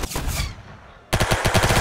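Rapid automatic gunfire in the Roblox Arsenal video game: a burst of quick shots, a half-second lull, then another fast, loud volley of rhythmic rounds.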